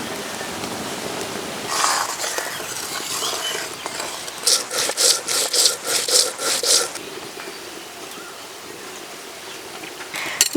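Roasted coriander and cumin ground into paste, likely on a grinding stone, giving a rough rasping scrape followed by a quick run of about eight rhythmic strokes, close and fairly loud, with no talking.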